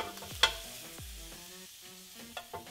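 Shrimp for tacos sizzle on a high-heat grill, a quiet steady frying hiss broken by a few sharp clinks and scrapes of a utensil against the hot surface, with no talking.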